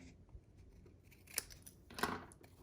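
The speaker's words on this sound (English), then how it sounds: "Then I'm gonna take my snips and just cut following the designer series paper." Craft snips cut through designer series paper for a split-front greeting card, making a few quiet, crisp snipping cuts with soft paper rustle between them, close up.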